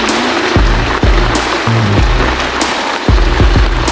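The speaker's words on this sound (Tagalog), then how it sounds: "Nabutan na kami ng ulan." Steady hiss of rain falling on a surface, with several low thumps and knocks scattered throughout, continuous and fairly loud.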